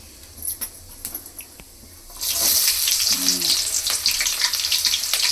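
Fennel seeds dropped into hot oil for a chicken curry, a quiet start with light clicks, then a sudden loud, steady hiss of sizzling close by, with no talk.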